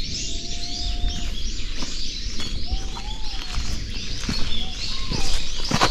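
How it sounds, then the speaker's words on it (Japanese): A bird sings at a mountain campsite on Mount Kongō, giving drawn-out whistles and quick chirps at moderate distance over soft outdoor rustling and light footsteps. "いや、この鳥の声は、"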